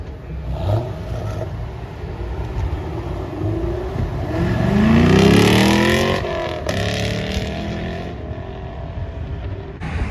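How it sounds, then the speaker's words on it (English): Muscle cars accelerating as they leave a cars and coffee meet, engines revving and rising in pitch as they pass, loudest midway and fading out, heard from the roadside without talk. "it seems like some people are doing accelerations though"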